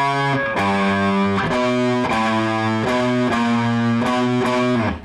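Distorted electric guitar plays a riff, with loud, heavily overdriven chords struck in a repeating rhythmic pattern and sustained between hits, no voice over it.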